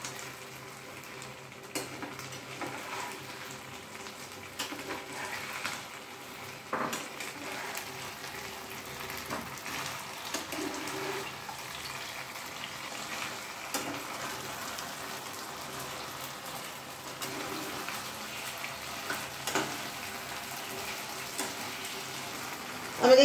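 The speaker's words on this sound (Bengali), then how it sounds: "এবার ভেজে রাখা চিকেনগুলো এর মধ্যে দিয়ে দিচ্ছি" Fried chicken pieces dropped into a pan of gravy, giving a soft, steady sizzle and crackle like light rain that runs the whole time, with occasional faint stirring clinks and no talking.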